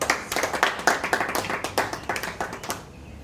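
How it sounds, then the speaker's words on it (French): Small audience at a book launch applauds, a short round of rhythmic, fairly sparse hand claps from a modest group, fading out after about three seconds. "On peut applaudir, s'il vous plaît."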